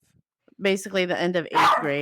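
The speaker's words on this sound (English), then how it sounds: "sorry about my dog." A dog barks and yips close by in a quick burst of several sharp barks, overlapping a person talking indoors.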